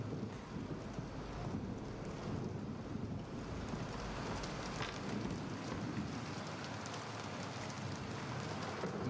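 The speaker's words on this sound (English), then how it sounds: "the red light is just because it's raining" Steady rain falls in the video game Bendy and the Dark Revival, a dense, even hiss of drops that holds at constant loudness with no talk.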